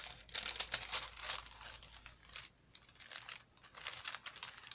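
Baking paper crinkles and rustles as it is laid over a sheet of plastic for scrapbooking, giving close, dry bursts of crackling that pause briefly before resuming.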